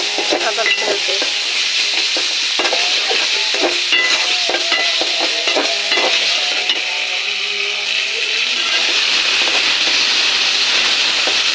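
Ginger garlic paste fries in a pan for a chicken curry, a loud continuous sizzle broken by quick scraping strokes of a stirring spoon, no voices.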